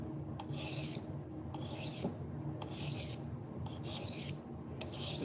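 A knife blade being sharpened on a 400 grit whetstone, steady rasping strokes repeating in a rhythm of about one per second, close and clear with no talking.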